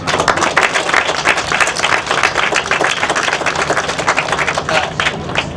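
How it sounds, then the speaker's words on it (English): A crowd at a youth baseball field grand opening applauds with sustained, dense clapping that continues steadily throughout, loud and close. "let's give the folks a round of applause"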